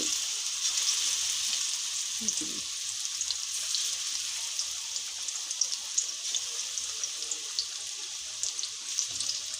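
Steady sizzling of chicken pieces frying in a pan in batches for chilli chicken, a constant high hiss with faint occasional crackles and a brief clatter near the start.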